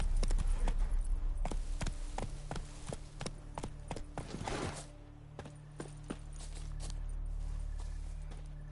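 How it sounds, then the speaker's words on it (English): Horse hooves galloping in The Witcher on PS5, a steady run of sharp clip-clop strikes up close that fades out after a few seconds, leaving a low rumble. "Run, Roach"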